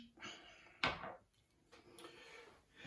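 A cork pulled from a bottle of Glenmorangie 10 year old Original whisky gives one sharp, close pop with a brief ringing tail, between faint handling noises.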